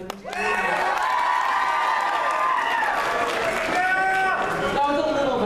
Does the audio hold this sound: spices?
no